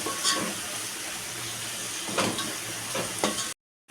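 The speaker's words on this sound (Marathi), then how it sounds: "ते सगळे छान असं आता आपण मिक्स करून घेऊया।" Homemade masala with Kashmiri chilli powder being stirred and fried in a prawn biryani pan, a steady close sizzle with occasional scraping stir strokes, cutting off abruptly near the end.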